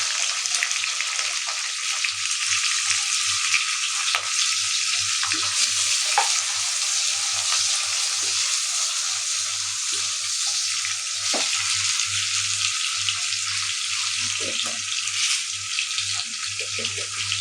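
Steady, loud sizzling of onions and green chilies frying in a pan, a continuous hiss with occasional stirring clinks and a faint low hum underneath.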